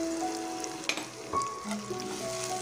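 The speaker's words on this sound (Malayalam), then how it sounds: "ഇതിലേക്ക് നമ്മൾ കട്ട് ചെയ്ത് വെച്ചിരിക്കുന്ന സവാള, പച്ചമുളക് ചേർത്ത് കൊടുക്കാം" Chopped onion and green chilli frying in hot oil in a pan, a steady close sizzle with a few brief stirring clatters, no talk.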